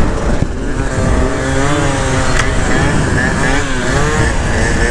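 A Honda Elite DIO scooter with a 72cc upgrade is ridden at speed, its small engine holding a steady buzzing drone with slightly wavering pitch under heavy wind rush, loud and close throughout.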